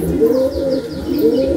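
Saharanpuri pigeons, a male and female in a home loft, coo in repeated low rolling phrases, close and steady, with faint higher chirps above and no voices.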